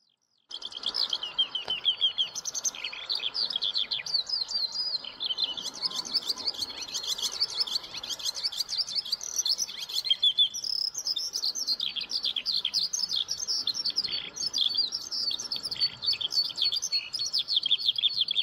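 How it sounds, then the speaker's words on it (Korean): A Eurasian skylark sings on and on in a rapid, high, warbling stream of chirps and trills that never lets up, fairly clear and alone, with no voices. "먼저 종달새 새소리부터 듣도록 하겠습니다."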